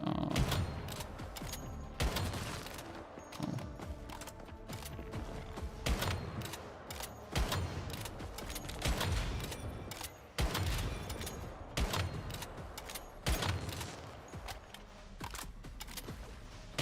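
Shotgun blasts against enemies in the video game Once Human, heavy booming shots roughly every one to two seconds in a steady rhythm, loud and close, with mechanical reload clatter between them.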